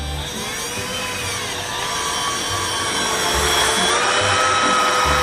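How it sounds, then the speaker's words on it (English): A power drill whirs steadily and loudly throughout, its motor droning without pause. "let's start drilling"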